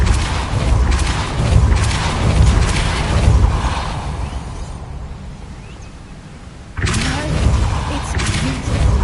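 A Depulso spell cast in the Hogwarts Legacy video game, a broad, loud whooshing burst with rumbling low end, dropping into a quieter lull before another heavy surge of game sound returns.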